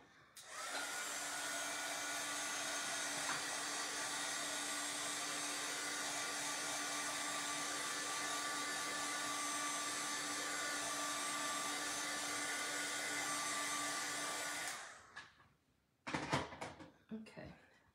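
A hair dryer blows steadily at close range for about fifteen seconds while drying a jar monogram craft, a constant loud broadband whoosh, then cuts off, followed by a few brief handling knocks.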